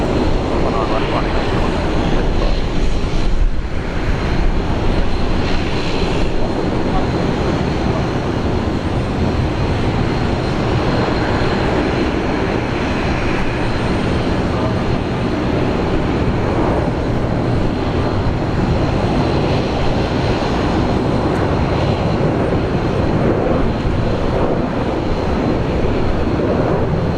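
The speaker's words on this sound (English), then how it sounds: "Qantas 935, Alpha 1, runway 19 on the left, line up away" A Qantas airliner takes off from runway 19 left at Brisbane Airport, a loud, steady broadband jet roar that fills the whole stretch without letup.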